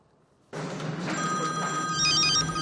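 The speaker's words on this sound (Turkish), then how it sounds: "Ev telefonumuz çaldı." A home telephone starts ringing abruptly after a brief quiet moment, then holds a steady, loud electronic tone with no voices over it.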